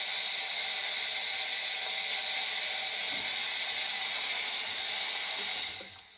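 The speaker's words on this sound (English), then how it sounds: "I noticed that when I was trying to steam for a cappuccino" A Gaggia Classic espresso machine's steam wand hisses steadily and loudly for several seconds, then quickly tapers off at the end.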